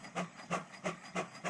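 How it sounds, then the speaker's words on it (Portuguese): An old steam engine hisses in regular rhythmic bursts, about five evenly spaced puffs of breathy steam within a second and a half, moderately loud with no voices. "Great Steam Machine."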